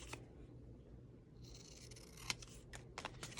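Scissors trim small paper photos for scrapbook crafting, a few quiet crisp snips over low room hum, close but faint, without talk.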